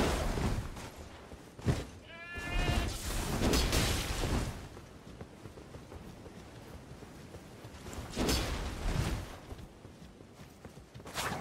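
The lightning ram goat enemy in Elden Ring bleats once, then thumps and crackles through heavy combat impacts, with bursts of loud attack noise and no voices.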